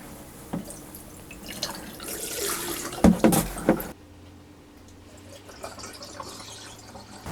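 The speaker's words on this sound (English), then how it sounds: "we still need to dump more antifreeze down the drain to fill the P-traps" RV antifreeze poured down a sink drain to fill the P-traps, a liquid gurgle and splash that builds to several louder glugs before stopping abruptly, then a quiet room.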